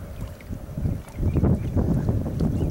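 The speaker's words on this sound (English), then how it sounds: "How about that little motor?" A small Honda 2 hp four-stroke outboard motor pushes a canoe, a low steady rumble mixed with water wash and wind buffeting, fairly close and moderately loud with no talking.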